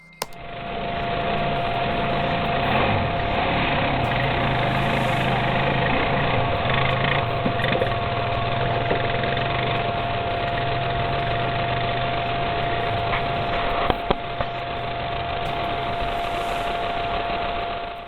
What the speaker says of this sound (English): The person on the ATV was just riding along when they noticed the creature